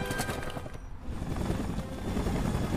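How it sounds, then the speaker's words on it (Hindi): Helicopter in the Spider-Man 3 video game, a loud continuous rotor roar with a rough chopping texture, alone without speech. "इस हेलीकॉप्टर को पकड़ना होगा ना मुझे।"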